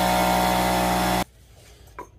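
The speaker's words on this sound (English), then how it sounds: "Now we'll see if I can get that hole bigger with the drill bit" A drill bit grinds steadily into a hole on a 1958 Cushman Eagle scooter, a loud, continuous whirring bore that stops abruptly partway through. It is followed by quiet handling noises and a faint knock.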